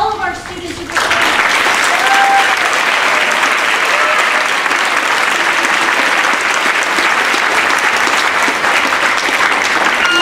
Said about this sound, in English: I want to give a huge round of applause to all of our students who perform.